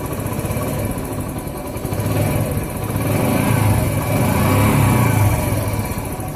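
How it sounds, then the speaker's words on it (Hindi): A Bajaj Platina motorcycle engine, just fitted with a new timing chain tensioner, is revved in short surges over a steady mid-pitched running hum, close and fairly loud. "और अब थोड़ा सी रेस दे के दिखाता हूँ आपको"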